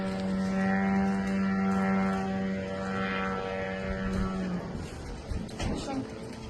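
A Shahed 136 drone in flight gives a steady droning engine hum with a strong buzzing tone, like a small propeller aircraft passing, fading into rougher rumbling noise toward the end.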